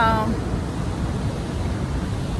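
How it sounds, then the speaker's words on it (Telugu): Niagara Falls roars as a broad, steady rush of falling water, loud and unbroken for the whole stretch, with a brief tonal trace at the start. "సో ఫైనల్గా ఇది నయాగ్రా ఫాల్స్."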